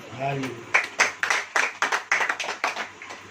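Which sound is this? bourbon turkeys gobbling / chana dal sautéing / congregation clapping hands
congregation clapping hands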